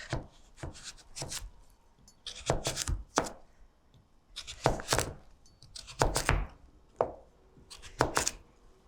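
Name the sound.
cutting butternut squash with a knife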